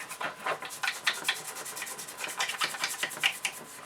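Close, fairly quiet scrubbing of an aluminium surface on a Mardave Capri being restored, quick irregular rasping strokes in a rapid rhythm with no talking.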